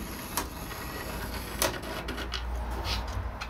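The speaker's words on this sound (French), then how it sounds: "nous allons utiliser une rondelle et un crayon. Ça va nous servir à bien s'aligner sur le tracé." A pencil rubs around a washer on a wooden plank, a soft continuous scratching and rasping with a few sharper scrapes, close and quiet.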